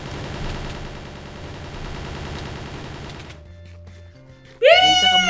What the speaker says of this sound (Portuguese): Ó, dá um tiro pra você ver.